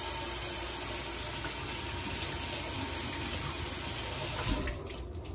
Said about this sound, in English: Rinse it straight off in the sink.